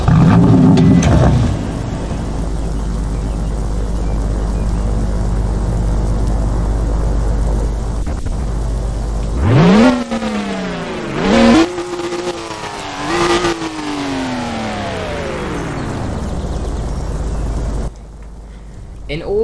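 Game engine startup of a 2018 BMW M4, with a rising rev sweep around the midpoint followed by several more swelling revs over a steady background hum, fairly loud, cut off near the end.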